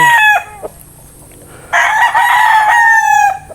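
A gray gamefowl rooster crows loud and close, with a short call at the start, a brief cluck, then a long drawn-out crow, and no talk.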